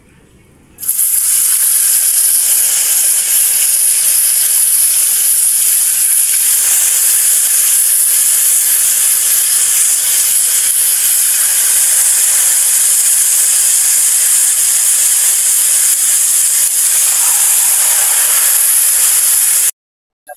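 Marinated fish fries in hot oil, a loud, steady, dense hiss that starts abruptly, holds evenly for nearly twenty seconds, then cuts off.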